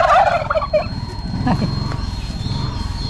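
Village turkeys gobble in a loud burst of rapid, bubbling calls near the start, then trail off, with people talking throughout.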